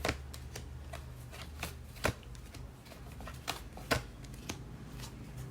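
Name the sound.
tarot cards being shuffled for a reading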